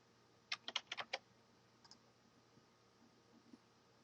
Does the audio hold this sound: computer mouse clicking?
yes